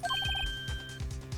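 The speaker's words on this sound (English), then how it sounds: "One of those newfangled ringtones." A phone ringtone in the Phoenix Wright: Ace Attorney game plays a quick bright electronic melody of short repeated beeps, then sustains a single tone over a low rhythmic pulse, loud and alone.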